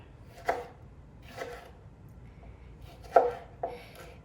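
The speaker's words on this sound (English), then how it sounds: "just gonna give these a good chop" A knife chops salad ingredients, likely yellow watermelon, tomato and mozzarella, on a board, giving four or five separate soft knocks spaced unevenly against a quiet room with no talking.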